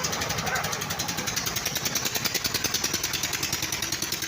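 A ZAZ 968M car fitted with a diesel walk-behind tractor engine chugs along with a fast, even knocking beat that is loud and close, under a voice.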